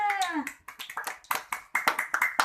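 A small group in a classroom claps in an uneven rhythm, roughly a dozen sharp claps close by, with a brief voice at the start.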